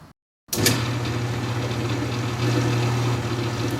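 A wear tester machine, used to test a worn roll against a race, switches on after a brief silence and settles into a steady, loud motor hum with a constant low drone, running alone without talk.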